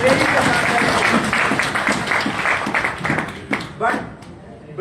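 An audience at a political rally claps, a dense burst of applause that stays strong and then thins into scattered, uneven claps near the end.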